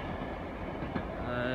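West Coast Railway train passing through Exeter St David's station, a faint distant rolling rumble with a soft click, heard briefly and quietly.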